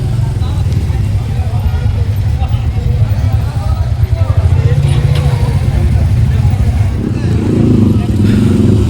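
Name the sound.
motorcycles arriving at the Plassey monument at night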